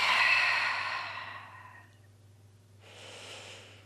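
An exhale during a beginner Pilates side bend, a close, audible breathy sigh that fades out, followed after a short gap by a softer second breath, with no talking.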